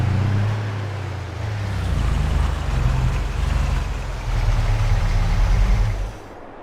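A small tractor idles in Farming Simulator 22 on a farm during a rain delay. Its engine holds a steady, low drone with slight swells, heard alone before it drops off near the end.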